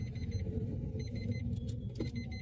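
A manual car pulls forward with a low, steady engine rumble from inside the cabin, with faint intermittent clicks and rattles over it.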